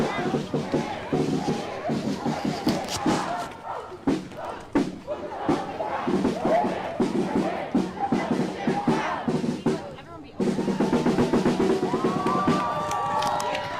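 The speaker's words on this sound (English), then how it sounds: "this crowd just marched around the block after a few speakers were giving some speeches" A protest crowd marches around a city block, with dense chanting voices, shouts and thumping footsteps and claps that are loud and close throughout, growing fuller near the end.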